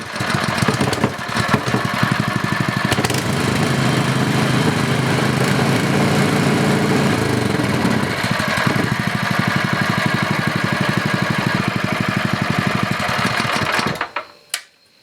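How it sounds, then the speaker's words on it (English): A small gasoline engine, a Honda GX-style clone such as a Predator 212 or Greyhound 6.5HP, idles with a rapid, steady putter for several seconds, loud and close, then sputters and cuts out near the end. "I'm glad to get this little motor running again."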